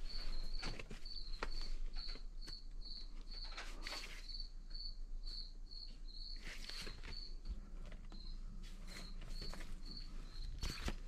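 Crickets chirp in a steady, rapid pulsing trill that stays at an even level throughout, with faint rustling and low background rumble underneath.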